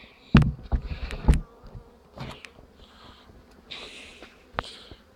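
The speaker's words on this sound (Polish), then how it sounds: "Pszczoły są dosyć, wychodzą, ale są dosyć takie w miarę spokojne. Jest to pszczoła prima." Calm Prima honeybees buzz around their hive in short, close, darting bursts, with a few sharper loud passes early on and a softer hum later.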